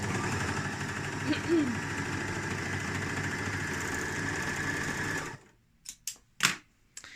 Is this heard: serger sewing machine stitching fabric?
yes